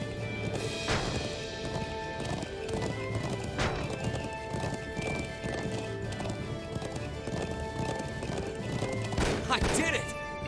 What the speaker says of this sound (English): Horse riding seems like so much fun, too.